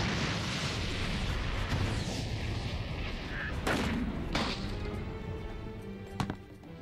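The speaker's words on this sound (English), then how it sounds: "Is Luffy just absorbing the explosions with his rubber body?" Explosions from a One Piece anime episode boom and rumble loudly, with several sharp blasts over a dense roar of battle noise.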